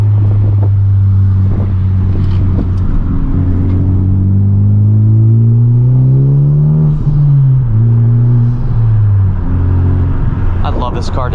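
A tuned Honda Civic Type R engine revs and accelerates in R mode with a rising, falling growl through gear changes, loud and close, steady throughout.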